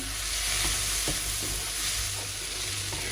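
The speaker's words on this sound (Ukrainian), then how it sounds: "Гарно все перемішуємо" A vegetable sauce thickened with flour sizzles steadily in a frying pan while a spoon stirs it, with soft scraping strokes against the pan under constant close frying hiss.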